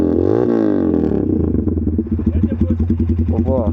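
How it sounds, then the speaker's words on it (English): A Taro GP One 250cc motorcycle with a loud project exhaust runs close by, a steady raspy drone that settles into a pulsing, throbbing idle; a voice talks over it. "250cc motorcycle. Super loud. Let's see project exhaust."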